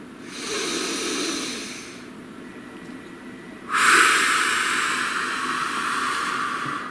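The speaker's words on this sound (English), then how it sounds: "Please take a nice deep breath." A deep breath taken during a calm guided relaxation: a soft breathy inhale, then a louder, brighter hissing exhale from close by, with no talking.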